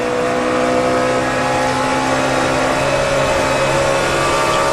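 NASCAR stock cars racing at high RPM in the 2007 Samsung Radioshack 500: a loud, continuous, droning engine roar with steady high revs and no break, no voices.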